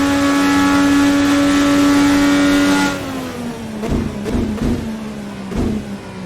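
A 2012 Formula NA Indy car engine in a racing video game holds a steady high whine, then drops in pitch and pops through quick gear changes, loud and close with no talk.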